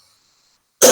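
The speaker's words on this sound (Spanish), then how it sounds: "Perdón por esta tos." A single sharp cough bursts out at the end after near silence, close and loud, during a Spanish-language lecture on social and political movements in North Africa.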